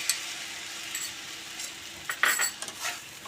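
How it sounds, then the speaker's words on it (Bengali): Maggi noodles with masala dissolved in water sizzle in a hot pan while a utensil stirs and scrapes, clinking against the metal in short uneven strokes over a bright hiss. "নেড়ে নেব।"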